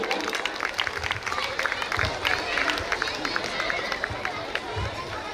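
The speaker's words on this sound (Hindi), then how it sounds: "एक बार जोरदार तालियों के द्वारा अभिनंदन किया जाए भैया टंडन जी का" Loud applause from the audience at a school annual function, steady dense clapping with crowd noise, an announcer's voice continuing over it.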